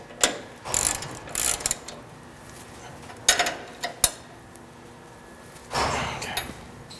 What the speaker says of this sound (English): Using a 13/16 socket and a 7/8 end wrench, you will tighten the through bolt through the uniball.